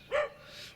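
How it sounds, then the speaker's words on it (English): A small dog on a farm by a river gives one short, sharp bark at moderate distance, followed by a faint trailing yip. "Barking little dog here."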